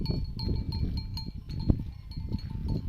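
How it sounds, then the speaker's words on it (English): Goats bleating now and then over a busy farmyard murmur, with faint bell-like tinkles ringing through at a steady pace. "The goats are looking for fresh grass."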